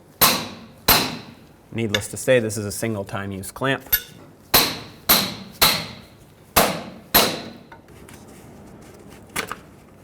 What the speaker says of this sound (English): You take a pry bar and a hammer and you punch it right off.